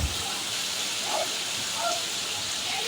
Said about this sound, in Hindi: क्या तेज बारिश,